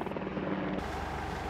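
Three ROK Army Surion military helicopters make a memorial flyover at a ceremony honoring fallen Dutch soldiers, a loud, steady rotor and engine roar heard alone with no talking.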